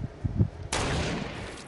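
A sniper gunshot in a video game, one sudden sharp crack followed by a broad noisy decay, after a few soft low thumps; loud and close.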